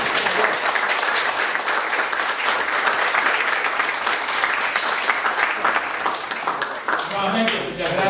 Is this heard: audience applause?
yes